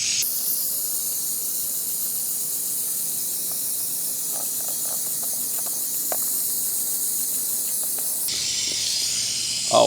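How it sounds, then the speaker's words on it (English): Pressurized water spray rinsing a K&N air filter from the inside, a steady loud hissing rush that runs almost unbroken, with a brief shift in tone near the end. "we're going to rinse it out from the inside. So we're going to get a little bit of pressure."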